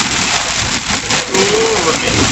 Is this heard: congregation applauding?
no